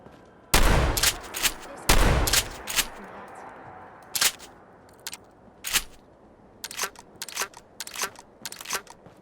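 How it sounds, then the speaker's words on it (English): A short hunting shotgun in Fallout 4 fires several loud, sharp blasts spaced a second or two apart, the first two heaviest, then lighter cracks and clatter trailing off. "Short hunting shotgun."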